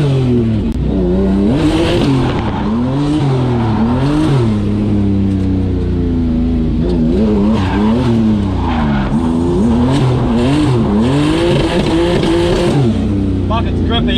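A BMW E36 drift car runs its first laps on a grippy competition drifting track, its engine revving up and down in repeated swooping waves while tires squeal, loud and close throughout.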